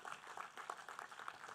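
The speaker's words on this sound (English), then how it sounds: "big round of applause, and thanks to Professor Radhakant Padhi as well" Faint, distant applause at a diabetes management app launch event, a soft patter of scattered clapping from a small audience, thin and steady.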